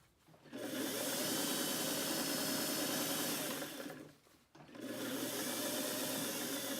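A sewing machine hemming a pair of pants runs in a steady, continuous whir that breaks off briefly near the end, then resumes. No talking is heard.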